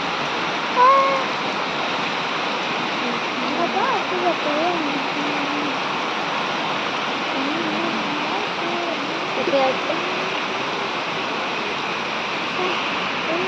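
Rainwater pours steadily through a leaking house roof during a storm, a dense continuous rush of falling water heard close, with a voice faintly over it.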